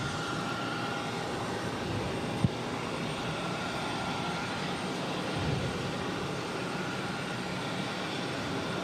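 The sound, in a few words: Bombardier Challenger 300 jet taking off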